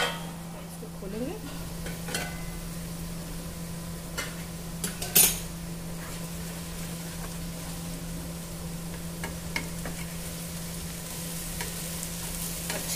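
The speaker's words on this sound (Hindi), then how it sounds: "अच्छे से सब कुछ मिक्स कर देंगे।" A milk and cream vegetable curry stirred and mixed in a pan, giving soft continuous scraping and a low sizzle over a steady hum, with a few light utensil taps and one louder clink midway.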